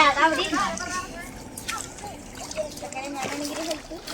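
A child steps into shallow canal water, making a few light splashes and trickling sounds while children and adults talk nearby.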